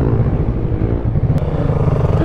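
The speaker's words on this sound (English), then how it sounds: "Alright, we're on a freaking sport bike." A 650 sport bike being ridden, its engine giving a steady, loud low rumble throughout with a brief higher rattle midway; no talk.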